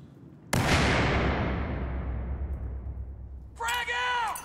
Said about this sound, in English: I'm gonna throw a grenade!